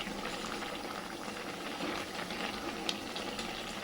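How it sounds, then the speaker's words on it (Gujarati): A pot of milk simmers and reduces for Gujarati carrot halwa, giving a steady, close bubbling and gentle hiss with occasional small pops and no talking. "તો જો ખાસું એવું દૂધ બળી ગયું છે એની અંદર."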